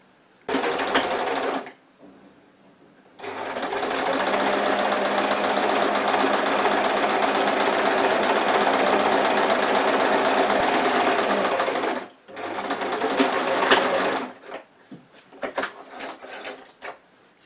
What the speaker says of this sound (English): we're going to stitch from this point and from the lining all the way around without stopping